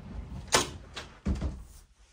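A sliding wardrobe door in a lakeside lodge bedroom rolls aside, giving a soft thunk, a brief rumbling glide and a second bump as it stops, close and alone.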